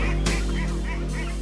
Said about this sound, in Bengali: হাঁসগুলোকে খাওয়াইতেছি এখন শামুক